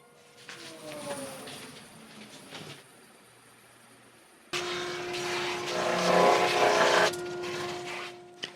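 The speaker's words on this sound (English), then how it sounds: "I'm gonna go over on the bandsaw now. I'm gonna cut these down so that I have 14 strips." A bandsaw cutting maple into strips for an end grain cutting board; a motor runs at first and winds down, then the saw starts with a loud steady roar and a tonal whine that swells briefly as the blade cuts, close up.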